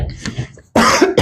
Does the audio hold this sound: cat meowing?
no